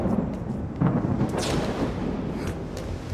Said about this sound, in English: Now is a frickin' storm, are you serious?